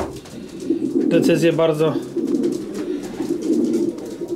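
Pigeons coo in low, rolling repeated calls at a loft, close and continuous, while someone speaks over them briefly in the middle.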